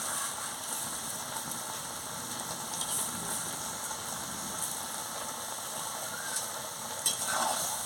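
Mixed vegetables stir-fried in a pan for a ghonto-style dish, giving a steady, fairly faint sizzle with soft scraping from stirring, continuous throughout with a slightly louder clatter near the end.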